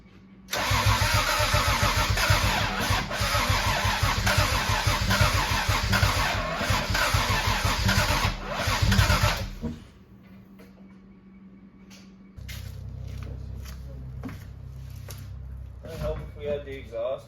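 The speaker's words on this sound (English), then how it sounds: "now I'm just gonna see if it runs" A Toyota Supra with an open downpipe and no exhaust cranks and fires up, then runs loud and rough for several seconds before cutting out; after a pause it idles again at a lower, steadier level.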